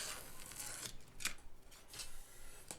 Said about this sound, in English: Now I'm trimming the elevons to shape, trimming off the ends and sort of tapering it a bit towards the motor end.